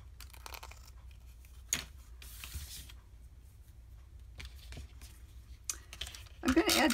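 Scissors trim the sides of a paper envelope in a quiet craft setting, giving a few short, soft snipping and rustling bursts spaced apart, then a louder crinkle at the end.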